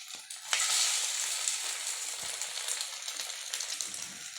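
Wheat flour and egg snacks fry in hot oil, a bright continuous sizzle that jumps in loudness as pieces are added, then crackles on steadily, close and alone without voices.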